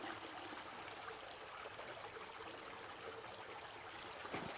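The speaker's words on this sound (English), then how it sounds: "Here comes the water." Water rushes through a Royal Manufacturing sluice box fed by a small pump motor, a faint steady broadband wash with gurgling and trickling detail, no one talking.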